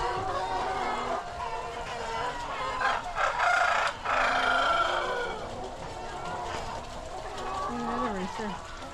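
Several roosters crow repeatedly with hens clucking around them at a chicken farm in fall, loud and close, while people talk over the birds throughout.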